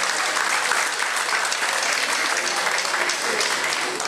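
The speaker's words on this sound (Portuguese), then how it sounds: "Uma salva de palmas" A round of applause at a samba school's anniversary celebration, steady, even clapping from a crowd that holds at a constant level throughout.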